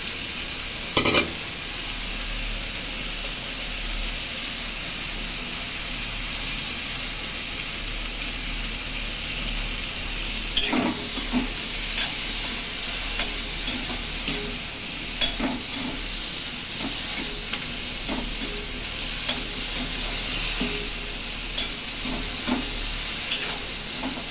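Eggplant pieces and chilies fry in hot katla fish oil, a steady close sizzle broken by occasional sharp scrapes and knocks of a spatula stirring the pan, with no talking.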